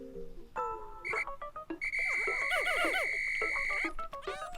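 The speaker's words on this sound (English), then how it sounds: "Now I'll use B to call them back to me with my whistle." A rising, steady electronic whistle from Pikmin 4, used to call the Pikmin back, sounds over chirpy creature calls and game music. It holds a long bright tone, then breaks into warbling chirps.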